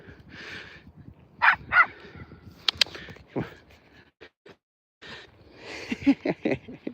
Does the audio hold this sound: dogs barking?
yes